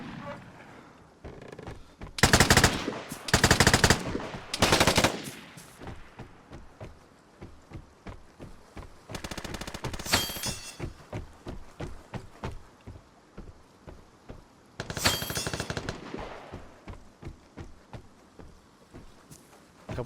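Gunfire in the survival shooter Vigor: sharp bursts and single shots ring out in irregular clusters, some loud and close, with quieter ambient noise between them.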